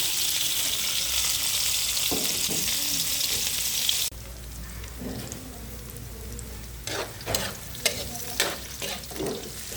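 Ginger, onion and garlic go into hot oil together, giving a loud hissing sizzle that drops off abruptly partway through, followed by quieter frying and intermittent scraping stirs.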